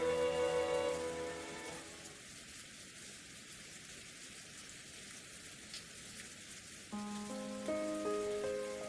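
Steady rain falls on a surface as a dense, even hiss with scattered droplet patter, a sound effect from an Umineko visual novel rose-garden scene. Soft music fades out at the start and returns near the end.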